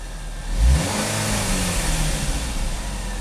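A Chevy Equinox engine held at a steady RPM under load, a smooth, loud, even drone with a brief swell at the start and no stumbling or bucking.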